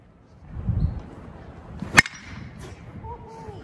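A DeMarini Voodoo BESR baseball bat strikes a ball with one sharp, ringing crack partway through, standing out loud over low background rumble and faint voices.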